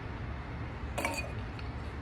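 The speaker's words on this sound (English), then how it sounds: "I'm adding some ice cubes to it." Ice cubes clink into a glass of Acqua Panna water in one brief, bright rattle near the middle, otherwise a quiet indoor hush.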